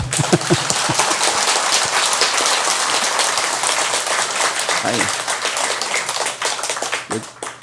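Audience applause at a Buddhist Dharma talk by a monk, dense clapping throughout with sharp taps, fairly loud and steady, a voice briefly heard beneath it near the end.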